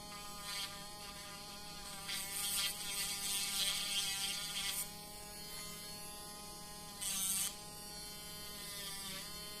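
A small electric nail sander polishing fingernails gives a steady, high, thin buzzing whine close to the microphone, with brief louder grinding surges as the bit meets the nail.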